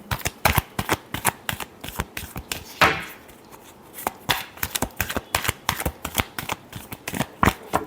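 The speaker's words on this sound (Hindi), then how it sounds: "last shuffle" A deck of tarot cards is shuffled in a long run of quick, crisp riffles and flicks, close and fairly loud, with a brief smoother slide partway through and no voices.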